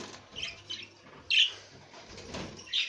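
A cockatiel chirping while eating homemade bird food, a handful of short, sharp chirps and squawks scattered over three seconds, fairly close, with faint shuffling between them and no talk.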